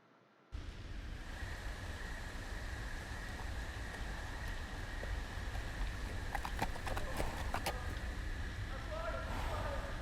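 Horse hooves clop at a walking pace beside a character on foot in the Game of Thrones video game, set against a steady, loud wash of ambient noise, with a few sharper hoofbeats standing out.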